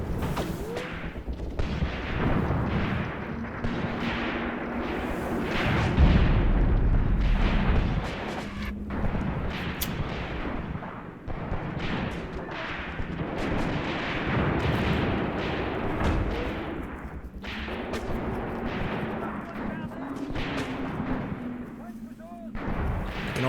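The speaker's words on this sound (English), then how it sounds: "see off in the distance there in the bush a lot of artillery rounds spiking up" Distant artillery fire rumbles through a WW2 North Africa war video game, with repeated booms and crackling gunfire forming a dense, continuous barrage while someone talks over it.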